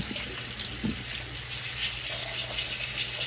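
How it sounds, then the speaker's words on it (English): A steady, hissing stream of running water from a kitchen faucet pours while potatoes are scrubbed with a brush. Soft rubbing and splashing mix into the flow, and no one speaks. "I'm just going to brush my potatoes good"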